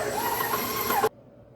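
A stand mixer running at about medium speed kneads pasta dough, a steady motor whir with a rising whine that cuts off abruptly after about a second, leaving quiet.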